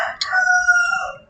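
A rooster gives one loud, close cock-a-doodle-doo, a drawn-out crow lasting about a second that sounds clear over a quiet rural background.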